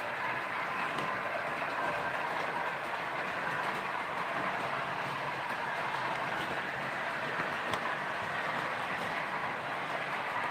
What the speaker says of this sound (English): We've just got the EMU just trundling along.